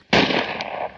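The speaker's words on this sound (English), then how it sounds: "Then I heard a shot" A single sharp rifle shot on a trench parapet at sunrise during wartime guard duty, one loud close crack that sustains briefly before cutting off, heard alone without any voices.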